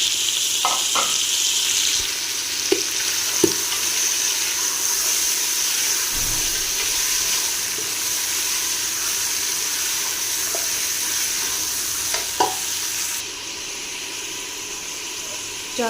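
Meat with whole spices being stir-fried in a pot for yakhni, giving a loud, continuous sizzling hiss throughout, with occasional faint clicks and knocks from stirring.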